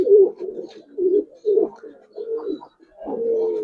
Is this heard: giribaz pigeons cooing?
yes